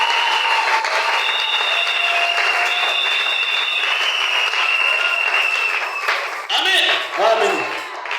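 A church congregation applauding in acclamation of the Lord Jesus Christ during an evening revival service, sustained loud clapping with some tonal sounds over it, then tapering into scattered claps and a brief voice near the end.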